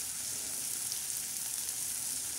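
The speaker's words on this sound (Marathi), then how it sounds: "आता छान असं आपण हे सर्व परतून घेणार आहोत." Bombil fish fry with chilli powder and turmeric in a pan gives a quiet, steady hiss that stays even throughout.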